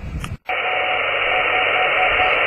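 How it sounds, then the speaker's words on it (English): A 6 meter band radio beacon comes in on a Hentenna antenna. After a short cut in the hiss, a steady, unbroken tone sits in loud receiver noise. "Okay, we found a beacon"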